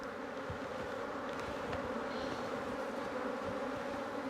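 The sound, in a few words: honey bees buzzing in a hive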